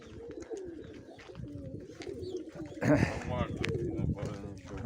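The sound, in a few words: Mykolaiv pigeons cooing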